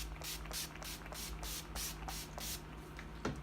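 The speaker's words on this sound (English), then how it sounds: "set your face with setting spray" A makeup setting spray bottle mists onto a face in a quick series of about eight short, close hissing spritzes at a steady rhythm.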